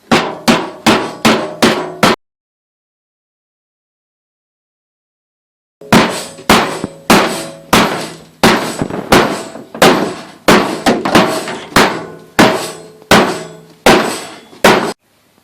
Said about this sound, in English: This is quite tough, so I've had to get a bigger hammer.